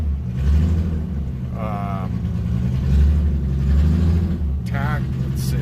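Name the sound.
1967 Triumph GT6 engine idling after cold start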